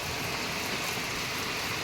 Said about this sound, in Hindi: इतनी मोटी बारिश लग रही है ना, इतनी मोटी बारिश मैं बता नहीं सकती।